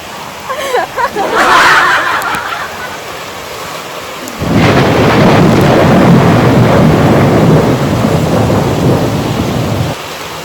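Thunder rumbles at the start of the first April rain. A loud, dense downpour then follows for several seconds as heavy, continuous rain, with a brief voice faintly audible early on.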